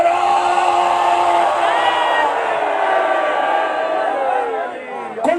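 A large crowd at a religious conference chants slogans in unison, a sustained, loud wall of massed voices with a steady, drawn-out tone that fades briefly near the end.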